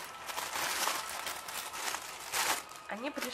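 A thin plastic mail pouch holding leggings ordered from Aliexpress crinkles and rustles steadily as it is handled up close, with a louder crackling burst near the end.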